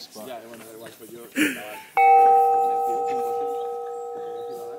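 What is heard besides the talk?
meditation centre gong being struck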